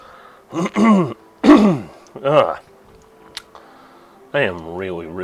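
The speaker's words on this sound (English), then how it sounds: "I am really, really sorry for the constant coughing." Several throat clearings and harsh coughs come in separate bursts, the first three close together, a faint click after them, then a longer voiced rasp near the end, all close up with no speech.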